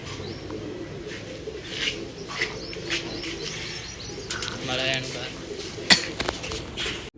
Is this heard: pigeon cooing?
yes